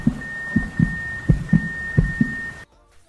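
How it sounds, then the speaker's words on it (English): Heartbeat sound effect in a music video: about four deep, close lub-dub double thumps in a steady rhythm over a faint sustained tone, then sudden near-silence. "An eclipse forms and you hear a white noise and a heartbeat."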